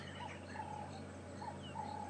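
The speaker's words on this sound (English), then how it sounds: "You can hear a Cape turtle dove" Soft, repeated Cape turtle dove coos drift in from a distance over steady low background hum, faint and evenly spaced, on an afternoon safari drive at Djuma and Arathusa.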